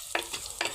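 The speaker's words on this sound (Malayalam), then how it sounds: "ഉള്ളി മൂപ്പിക്കുക." Chopped onions frying in a pan in a home kitchen, with a couple of short sizzling bursts and stirring scrapes close by. No one talks.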